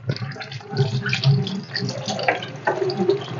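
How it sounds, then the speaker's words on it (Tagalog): Cassava root being rinsed under a running tap to wash off sand: a steady, close splash and gush of water with shifting sloshing as the roots are rubbed and turned. "Huhugasan muna natin ang ating kamuting kahoy"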